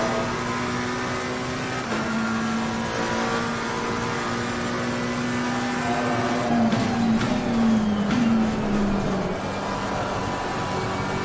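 Race car engine in Assetto Corsa Competizione holds a steady loud drone with shifting pitch, rising and falling through gear changes and braking zones across the whole stretch, with no talking.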